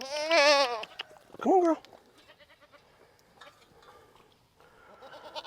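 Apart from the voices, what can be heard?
goats bleating on a farm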